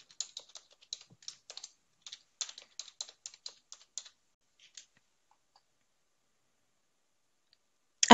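Typing of a username on a computer keyboard: about four seconds of quick, close key clicks in uneven bursts, then silence, ending with a loud sharp clatter.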